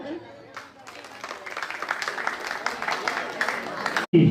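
Audience applause at a multicultural youth community development gathering in Mannar, a sustained crowd clapping that builds gradually and holds steady for several seconds before cutting off abruptly, followed by a brief loud thump.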